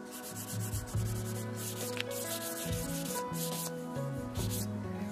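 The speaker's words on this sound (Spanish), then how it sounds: "le vamos a pasar no un uniforme, sino que en partes la lija para que se vaya desgastando los colores" Painted wood is rubbed by hand with 100-grit sandpaper in patches to wear the colours for a vintage finish, giving close, steady scratchy strokes over a continuous tonal background.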